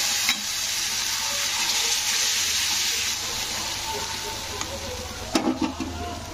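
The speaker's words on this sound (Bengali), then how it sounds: "তারপরে আমি দিয়ে দেবো একটু জল।" Sizzling chili powder and spices frying in a pan as they are stirred, a fish kalia being cooked. A bright, continuous hiss runs throughout. Near the end come a few louder spatters and bubbling bursts, with faint talk under the cooking noise.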